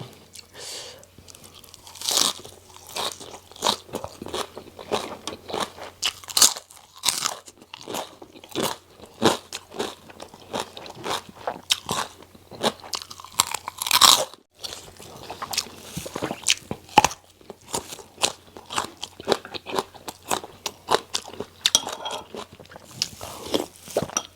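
Loud, close crunching and chewing of crisp green papaya salad, eaten alongside a wild sweet-leaf curry with grilled fish, with irregular bites repeating over about twenty-four seconds and no talk.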